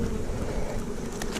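Honey bees being shaken off a hive frame while a colony is prepped for winter, a dense close buzzing swarm hum that holds steady throughout, with no talking.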